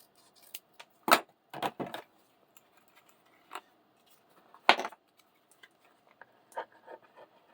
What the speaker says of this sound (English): if you don't like, you can actually just cut the edges.